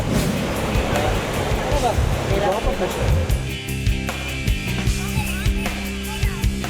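A rushing river current roars loudly and steadily close by, its churning rumble filling the scene while voices come through partly over it.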